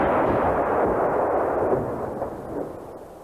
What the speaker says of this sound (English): tank guns and cannon were used to destroy many of the houses in Sportsa